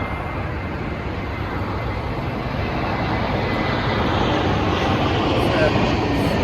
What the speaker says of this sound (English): British Airways A320 for you